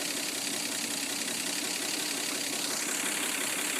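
A 1949 Chevrolet Deluxe four-door with the 216 six-cylinder engine runs steadily, a continuous even drone with no talk over it.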